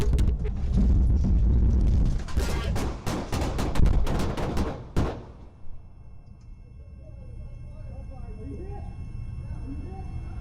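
Rapid bursts of gunfire crack out over several seconds amid rumbling noise during a police chase shootout, then stop abruptly, leaving a quieter background with faint distant sounds.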